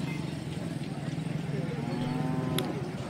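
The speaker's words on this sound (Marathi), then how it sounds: "तुम्ही बघू शकतात की ते गावरान खिल्लारी बैल विक्रीसाठी आले आहे" Khillari bulls at a village cattle market at Lasur Station, lowing with drawn-out moos amid a steady crowd murmur and people talking nearby.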